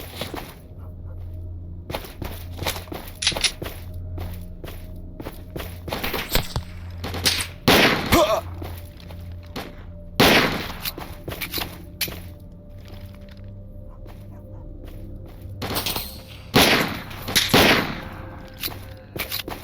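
Gunfire in the video game STALKER: Old World comes in loud, sharp shots and short bursts, some separated by pauses, set against a low steady ambient hum with no talking.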